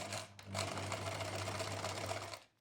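A sewing machine runs steadily, stitching the edge of a fabric maxi scrunchie with a zigzag stitch; a close, continuous mechanical whir lasts about two seconds with no talking.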